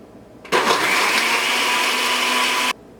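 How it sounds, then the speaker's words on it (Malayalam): A mixer grinder whirs at full power for about two seconds, blending Bru coffee into a frothy iced coffee, starting and stopping sharply and loud and close. "ഇത് 1 മിനിറ്റ് നിർത്താണ്ട് അടിക്കണം"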